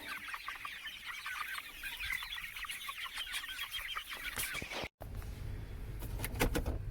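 Chickens cluck and squawk steadily as a flock settling to roost for the night, busy overlapping calls, with a brief cut near the end and louder, sharper cries afterward.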